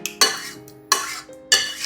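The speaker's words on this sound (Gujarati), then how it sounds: "બીજા વાસણમાં કાઢી લો એટલે ફટાફટ ઠંડુ થઈ જાય" Cooked raw mango pulp is moved into another vessel with three distinct scraping strokes of a utensil against the pot, close and evenly spaced, with no voices.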